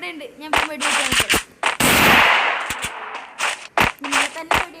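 Gunfire from the Free Fire video game during a one-on-one match: loud, sharp shots fire in quick irregular bursts, with one longer roaring blast in the middle.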